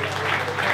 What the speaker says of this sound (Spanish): Denle fuerte aplauso al Señor